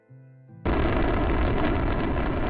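Rocket launch in Minecraft: a short tonal hum, then a sudden loud, sustained rumbling roar of the engines that sets in abruptly and continues at full strength.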